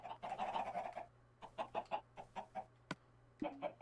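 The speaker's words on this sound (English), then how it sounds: "Oh, I do have chickens in the system." Chickens in a video game cluck in a run of short, separate bursts, then a quieter pause and a few more clucks, sounding close and clear with no talk over them.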